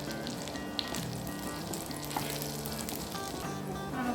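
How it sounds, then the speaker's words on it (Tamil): Green chilies sautéing in a pan, a continuous close crackling sizzle with no voices. "போய் நல்லா வதக்கி விட்டுக்கோங்க."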